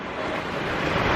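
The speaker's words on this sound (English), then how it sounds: "here comes some waves" Waves break on Laketown Beach, a soft, broad wash of surf mixed with wind noise, steady and fairly faint, with no voices.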